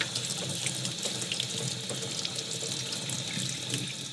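Tap water runs steadily over metal, rinsing off Fertan chemical rust remover, a continuous bright splashing hiss at close range with no talk.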